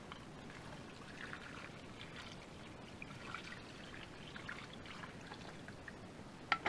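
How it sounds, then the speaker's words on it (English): Isopropyl alcohol poured into a container holding gun parts, a soft, steady trickling wash that runs on for several seconds, quiet and close, ending with a couple of small clinks. "Pour your alcohol in there."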